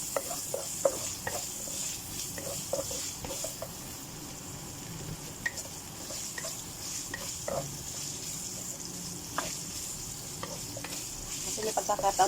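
Onions frying in a pan for shrimp and crab cooked in coconut milk with mustard greens, a steady soft sizzle under occasional clinks and stirring scrapes, close and moderately quiet with no talking.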